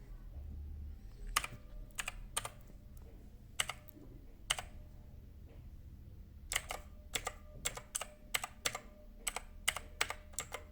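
Keystrokes on an MSI GK50Z mechanical keyboard: two bursts of sharp, close clicks, a few spaced presses followed by a faster run of taps, alone over a faint room hum.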